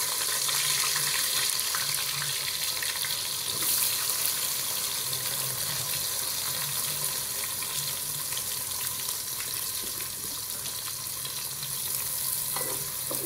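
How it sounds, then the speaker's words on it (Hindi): Onions frying in hot ghee in a pot, a steady, even sizzle and hiss that holds for the whole stretch at moderate loudness, with light stirring scrapes and no talking. "तो जी घी गरम हो गया है और अब मैं इसमें डाल दूंगी प्याज"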